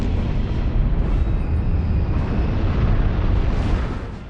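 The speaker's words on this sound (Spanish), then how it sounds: "la explosión de Tunguska" The Tunguska explosion over Siberia, rendered as a dense, sustained roaring blast with a heavy low rumble that holds steady for several seconds before easing slightly, loud and without speech.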